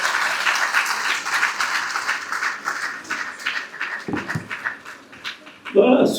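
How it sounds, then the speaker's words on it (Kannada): An audience at a book release event for a sixtieth-birthday felicitation programme claps in a dense, steady burst of applause that fades slightly, with a few louder stray claps toward the end. "ನೀವು ದೊಡ್ಡ ಚಪ್ಪಾಳೆಯೊಂದಿಗೆ ಇದನ್ನು ಸ್ವೀಕರಿಸಿ."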